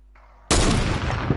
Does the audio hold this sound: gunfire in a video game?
yes